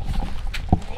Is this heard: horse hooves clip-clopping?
yes